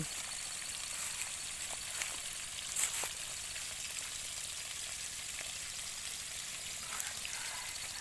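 A garden hose runs water onto a durian tree in a home orchard on an evening, a steady soft hissing stream with a few faint knocks, fairly quiet and without talk.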